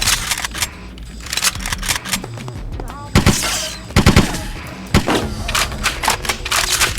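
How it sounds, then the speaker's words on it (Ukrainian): A machine gun fires in the BloodRayne video game in loud, rapid bursts, with scattered shots and impacts in between. "А як мені замінити на цей унікальний автомат?"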